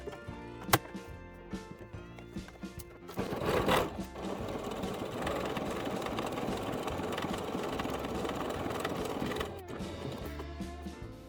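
A sewing machine stitches a zippered fabric pouch, starting after a few quiet seconds. It settles into a steady, close mechanical chatter that runs for several seconds before slowing and stopping.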